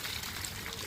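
A stream of water is poured onto a new brick wall for curing, giving a short, soft, continuous splashing rush without any voices.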